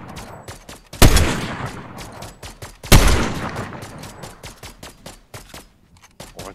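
Striker gun in Fortnite firing rapidly, a quick stream of sharp gunshots with two heavier blasts standing out, close and punchy, fading into scattered shots toward the end.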